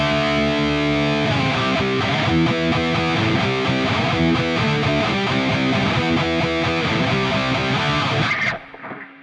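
An electric guitar plays a solo through the USA Metal preset of a Mooer Prime M2 multi-effects pedal, with a Screamer-style boost, a 5150-style amp and reverb, giving a loud, dense high-gain distorted tone with sustained notes that cut off abruptly near the end.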